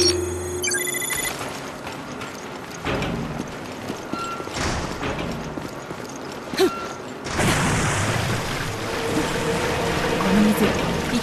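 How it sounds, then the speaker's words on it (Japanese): Water runs and trickles through a flooded ship's corridor in Resident Evil Revelations. The steady pouring wash is joined by metallic creaks and dull mechanical booms, and the water swells louder near the end. "何か聞こえるわ。 水の音？"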